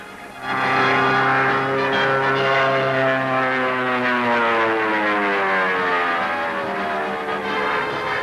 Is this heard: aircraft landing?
yes